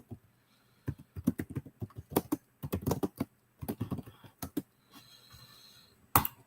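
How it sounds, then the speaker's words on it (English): Fingers type on a computer keyboard in quick, irregular runs of close clicking keystrokes, broken by brief pauses, in a quiet room. "Just typing up this."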